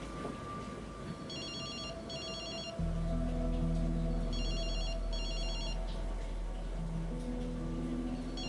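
A telephone rings in a Pretty Little Liars Season 4 episode, two pairs of trilling electronic ring bursts separated by a pause, over a low sustained background drone.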